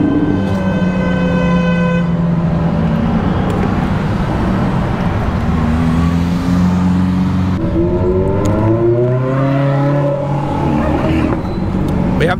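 Ferrari sports cars rumble and rev up a street one after another, engines rising and falling with horn-like tones and passing roars, loud and close amid traffic, with brief talk in the background.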